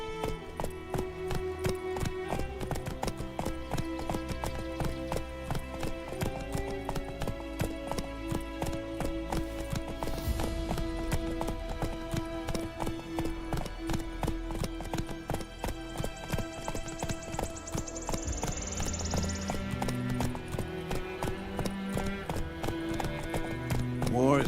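Roach the horse gallops in The Witcher 3, steady clip-clopping hooves running under a dense musical score, with voices speaking over the action.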